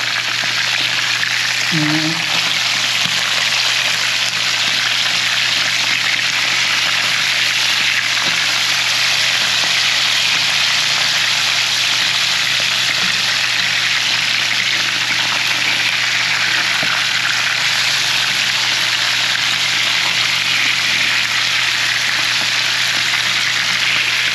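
Marinated tilapia sizzling and crackling steadily in a hot pan, a loud continuous fry that lasts throughout.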